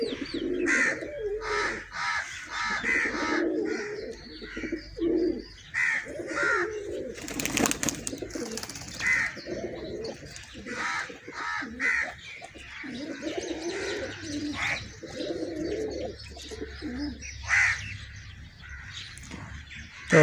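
Pigeons coo repeatedly at close range in rhythmic, overlapping bursts, with occasional chirps from other birds and a brief flutter-like noise midway.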